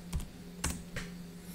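A handful of soft, close keystrokes tap unevenly on a computer keyboard as a short terminal command is typed in a quiet room.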